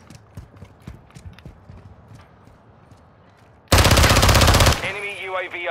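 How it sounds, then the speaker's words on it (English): A rocket launcher fires in Call of Duty: Modern Warfare II during a hardcore free-for-all match, a loud sustained roaring blast that swamps the earlier quiet footsteps and clatter before fading into ringing tones. "it ought to be a crime using this rocket launcher"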